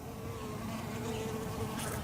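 Honeybees buzz at a hive entrance in New England in March, a steady close drone of many wings with a faint hum underneath and no talk.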